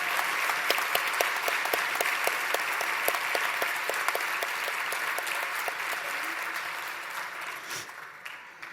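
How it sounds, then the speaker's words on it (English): Steady audience applause at a patient awards ceremony, a dense wash of many hands clapping throughout that tapers off near the end. "Ladies and gentlemen, please join me in a round of applause for Riley Weigel"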